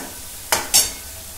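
Masala frying in a pan for Khandesh-style spicy dubuk vadya curry gives two short, close stirring scrapes with a bright sizzle, set apart by a brief pause over a low background hum.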